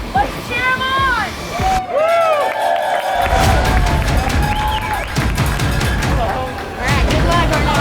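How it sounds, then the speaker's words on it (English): Restaurant diners cheer on a man taking a 72 oz Texas top sirloin steak challenge, with whoops, shouts and applause over a busy, loud room while people talk. "Let's cheer him on!"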